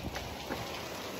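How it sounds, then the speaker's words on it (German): Heavy monsoon rain pours down in a dense, even hiss with scattered drops hitting surfaces close by. The burst is short and steady, with no voices. "es ist der Monsun. Es ist der strömende Regen,"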